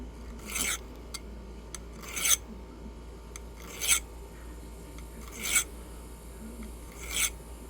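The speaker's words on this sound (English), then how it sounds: "let's finish filing this top here just a hair" A hand file rasps across the top of a workpiece in five evenly spaced strokes. Each stroke is a brief, fairly quiet scrape heard alone over low background hum.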